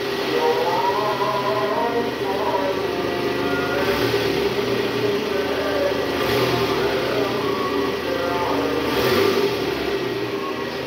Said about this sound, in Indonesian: ini dari luar terasa lebih halus getaran mesinnya guys